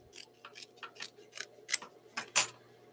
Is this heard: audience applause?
no